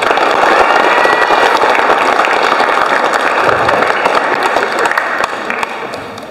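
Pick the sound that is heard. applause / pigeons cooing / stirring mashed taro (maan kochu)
applause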